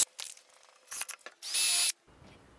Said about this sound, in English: So I'm gonna go ahead, pre-drill some holes and then lock it down with screws.